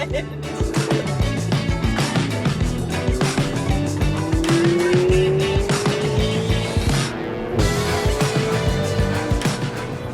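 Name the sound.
car driving fast on tiny winding roads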